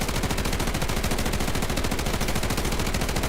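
Rapid, continuous SMG hipfire at a firing range in the Delta Force video game, a dense unbroken rattle of shots that stays loud throughout with no talk over it.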